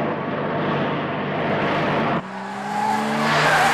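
A car tears through a film chase scene, a dense roar of engine and tire skid filling the first two seconds, then a sudden cut to a higher revving whine with steady engine tones.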